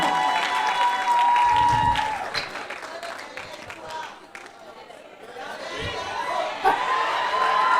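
Audience applauds a Miss Rondes et Jolies Gabon pageant contestant, candidate number 3, with steady clapping, cheering and crowd chatter filling the hall throughout.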